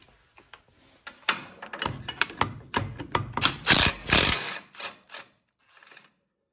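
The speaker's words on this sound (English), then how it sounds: "Remove the four 14mm nuts holding the front drive shaft to the transfer case." A wrench works the four 14mm nuts holding the front driveshaft to the transfer case on a 2007-2021 Toyota Tundra 4x4, giving quick ratcheting clicks and metallic clatter in close bursts, with no talking.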